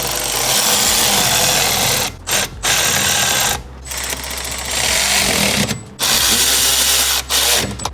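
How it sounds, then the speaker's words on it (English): Power ratchet snugging bolts while installing an intake on an MK8 Golf R, a loud close buzzing whir that runs in long bursts broken by several short pauses. "So I'm gonna take my power ratchet, turn it the other way, snug it pretty tight."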